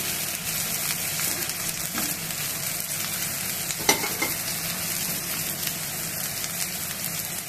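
A hotdog fries in a pan with a steady, close sizzle and crackle, plus a few brief scraping or stirring clicks, with no talking over it.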